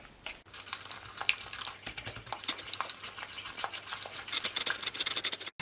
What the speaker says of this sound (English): Then add 3 whole eggs and give it a good mix.